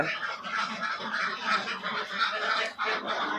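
A dense flock of ducks on a duck farm quacks and honks continuously, many birds calling over one another at close range.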